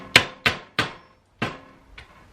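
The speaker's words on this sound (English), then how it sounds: "if you just take a nail and a hammer, slightly pitch it towards the center," A hammer drives a nail into the rim of a paint can, giving five sharp metallic taps, close and loud, with short ringing decays and a faint final strike.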